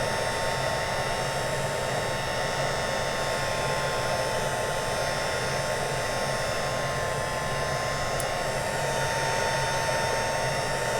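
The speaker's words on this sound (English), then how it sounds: "we want to make sure that we have our heat tool on a low setting, and we're just going to make sure that this Stazon ink is dry" A heat tool set on low drying StazOn stamping ink, a steady, even blowing whoosh like a hair dryer that holds at a constant level throughout, close by, with no voices.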